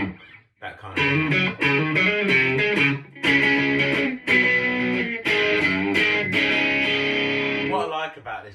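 An electric guitar runs through an MXR Distortion III pedal, playing loud, close, sustained distorted chords in several held strums with brief gaps between them.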